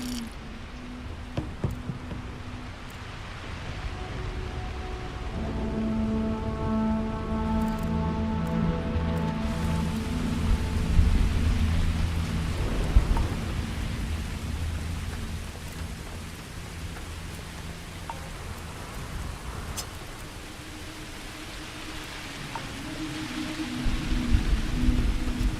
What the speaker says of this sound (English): Good sound for like rain